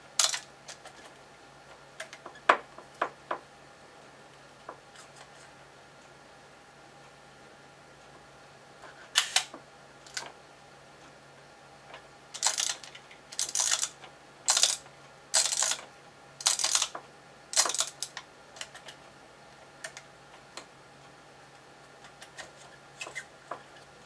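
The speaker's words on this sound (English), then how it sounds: "I'm just kind of randomly turning the dial" Quiet room tone broken by scattered mechanical clicks, then a run of sharp ratcheting ticks in quick bursts as the shutter speed dial of a Yashica Mat camera is turned.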